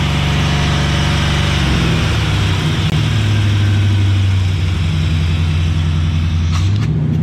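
A swapped engine in a C30 dually truck runs steadily at 2,000 to 2,500 RPM, its low rumble dropping and rising as the revs change, loud and close by with no talking.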